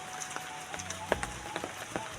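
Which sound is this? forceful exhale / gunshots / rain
rain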